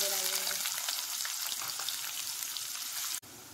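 Onions added to roasted garam masala sizzle loudly in a pan for dhaba-style chana boti, a dense close frying crackle that holds steady and then cuts off abruptly near the end.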